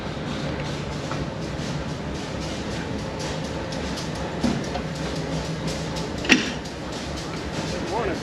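Passenger trains of the Durango and Silverton Railroad, one diesel and one steam, sit at the depot with a steady low rumble and murmuring voices, plus a couple of brief metallic clanks.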